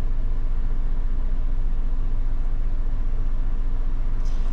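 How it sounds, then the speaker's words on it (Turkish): An Opel Corsa D engine idling after start-up, giving a steady, loud, even hum that holds unchanged throughout. "Şimdi aracı çalıştırdım."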